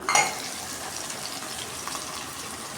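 Chopped tomatoes sizzle in an oil-filled pan on their way to a soya gravy. A brief clatter at the start gives way to a steady, close frying hiss.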